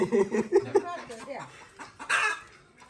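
A chicken clucks in short bursts close by, with voices talking over it.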